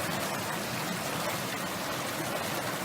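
A creek flows steadily at a Mammy Creek crossing in the Eastern Arthurs, a continuous close rush of water with no pauses and no voices.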